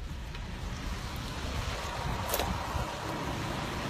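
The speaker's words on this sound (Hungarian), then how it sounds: "Annyira megy a szélvihar." Strong wind roars and buffets the microphone in a continuous rumble, with gusts rising and falling and no voices.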